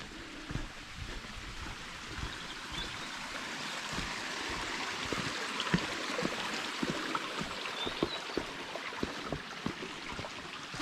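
A small stream on a Dartmoor walk near Sherberton stepping stones flows steadily nearby, with continuous bright babbling and trickling broken by little splashes.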